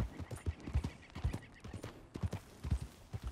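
Horse hooves clip-clop in a steady walking rhythm in Red Dead Redemption 2, close and moderately loud, with no talk over them.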